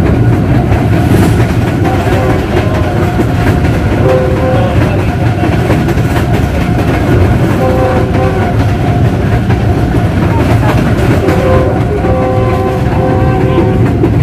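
The 07UP Tezgam Express passenger train running on the line from Chichawatni to Lahore while crossing the 10 Down Allama Iqbal Express, with a loud, continuous rolling rumble and repeated rail clatter throughout.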